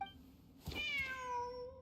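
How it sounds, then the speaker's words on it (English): A cat in the game Genshin Impact meows once, a clear rising-then-falling call close by, following a short soft rustle, with no talk over it. "Wait, there it is! The cat!"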